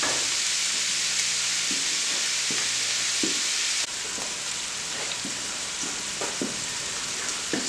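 Ground meat for shepherd's pie browns in a pan with a steady, close, loud sizzle and crackle that runs unbroken throughout, with a few faint scraping stirs and no talking.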